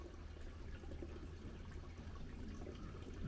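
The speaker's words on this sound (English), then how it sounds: "I can certainly hear running water inside the cave." Steady rushing of running water echoing inside a cave, a constant low wash with faint trickling detail throughout.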